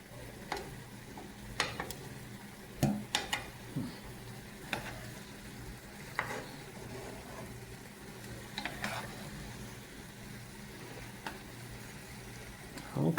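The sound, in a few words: onions frying and being stirred in a pan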